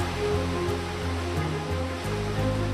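Waterfall in the Amazon jungle, a steady, dense roar of rushing water, loud and continuous, with a low droning tone shifting underneath and no talking.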